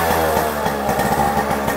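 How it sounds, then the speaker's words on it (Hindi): Yamaha RX 100 motorcycle engine idling close by, a loud, raspy two-stroke putter with a fast, even pulsing beat and no talking. "बिल्कुल रियल RX वाली आवाज़ आ रही है।"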